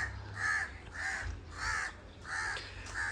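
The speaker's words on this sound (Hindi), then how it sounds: "कौवा क्या कहता है?" A crow caws repeatedly in a Pakistani village, five or six harsh evenly spaced calls, fairly close and clear over a low background rumble.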